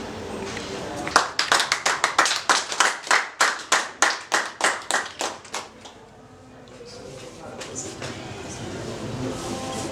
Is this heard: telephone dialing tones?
no